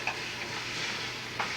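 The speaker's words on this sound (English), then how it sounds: "Keep stirring it" Stirring in a hot pan on an oven stovetop for a Creole dish, with a continuous soft sizzle and faint scraping, close and steady, and a couple of light utensil taps.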